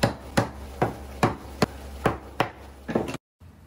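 A chisel chopping a 3/4-inch-wide, 2.5-inch-long mortise into a wooden bench part by hand: about eight sharp, evenly spaced knocks at close range, then a sudden stop.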